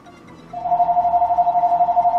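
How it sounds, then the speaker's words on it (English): A household telephone rings with a steady, loud electronic trill that starts about half a second in and continues without pause to the end, with no talk over it. "Okay, hang on. Phone's ringing."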